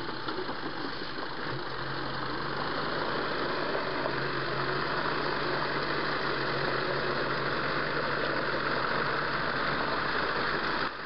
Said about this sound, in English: having no goods on the trailer also helps the Scania R620 easily pull its trailer to change direction more gently